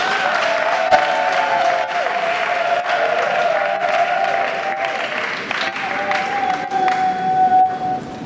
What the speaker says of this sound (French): Vos acclamations sont timides.